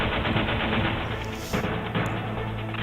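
Rapid bursts of gunfire from the Metal Gear Solid video game crackle continuously and loudly in dense, overlapping volleys, with a sharper crash near the middle.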